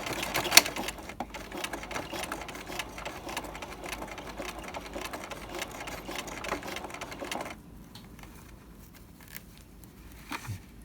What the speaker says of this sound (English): we're just sewing a straight stitch